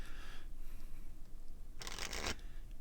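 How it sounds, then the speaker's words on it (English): A player at a Haruno Cup trading card tournament shuffles his hand of cards: one brief, crisp flurry of card riffling that stands out over a steady background hiss, with no talking. "looks like he's shuffled."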